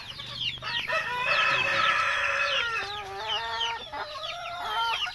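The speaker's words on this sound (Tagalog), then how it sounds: "Tapos ito yung ibang sisiw namin dito." Chickens and chicks clucking in a coop, overlapping calls and peeps close by, with a brief crow-like cry in the middle and no talk.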